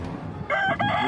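A fighting rooster crows loudly and close by, a single short harmonic call broken into two parts.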